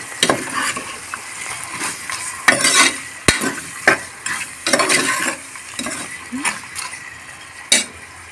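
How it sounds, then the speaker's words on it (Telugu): Ginger garlic paste frying with mutton in a pot, sizzling as a spoon stirs and scrapes, with repeated close clinks of metal on the pot and no talk. "ఇప్పుడు వీటన్నిటిని పచ్చివాసన పోయేంత వరకు వేయించుకోవాలి."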